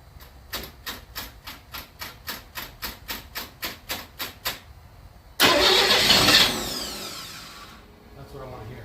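A 1961 Chevy Bel Air with a new starter cranks in a steady, rapid rhythm of about a dozen loud strokes, then catches and roars to life before settling toward a smoother idle.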